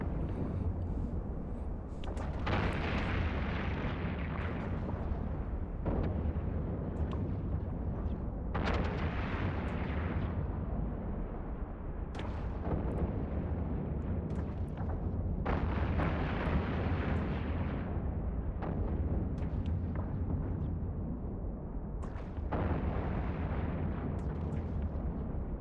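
Ship weapons in the space game EVE Online fire at turrets in a dense, continuous barrage of heavy booming blasts that surge and fade in waves throughout, loud and close with no pauses.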